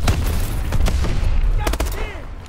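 Gunfire and pressure explosions in the Call of Duty: Advanced Warfare video game form a dense, loud barrage of rapid cracks and booms, with a whooshing sweep near the end.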